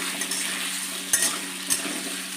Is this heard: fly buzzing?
no